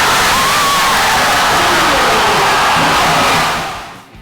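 Loud basketball crowd at a Broncs game roaring and cheering through the final seconds of a close win, a dense sustained wall of shouting and whoops that fades out at the end.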